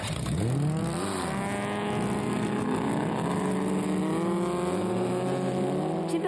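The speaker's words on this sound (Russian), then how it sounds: "Рев моторов на острове Молоково в Красноярске" Racing speedboats at a Russian championship on Molokovo island in Krasnoyarsk roar loudly and continuously, their engine pitch sweeping up and down as the boats accelerate.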